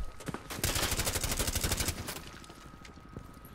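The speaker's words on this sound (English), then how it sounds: "I'm shooting the window I'm in." Rapid automatic gunfire shooting out a window in Rainbow Six Siege: a loud, sustained burst of close shots lasting over a second, followed by quieter scattered reports.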